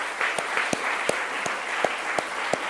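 A church congregation applauding during a Spanish-language sermon in London, a steady wash of clapping with a few sharper, louder claps standing out at irregular intervals.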